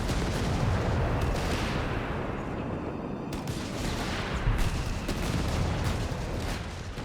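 Mortar and artillery fire in the Company of Heroes 3 strategy game, a dense continuous rumble of distant booms and gunfire with sharper impacts scattered throughout, steady and moderately loud.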